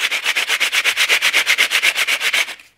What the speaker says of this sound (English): So I've got some 80 grit sandpaper on a sanding block